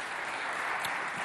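Studio audience applause on a televised school quiz show, a steady wash of clapping held at an even level for a short stretch.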